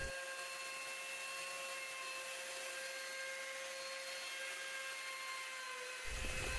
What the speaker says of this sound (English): Adding a 1/4 inch round over around the whole board.